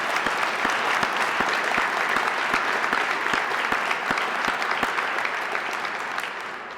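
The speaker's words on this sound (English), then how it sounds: "Would you give them a round of applause for me?" An audience at a South Dakota Right to Life event claps steadily in a room, a dense even wash of applause with no voices.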